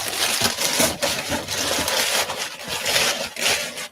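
Recycled packing paper handled while shoes are packed into a shipping box: a continuous, close-up papery rustling and crinkling with small scrapes, steady throughout.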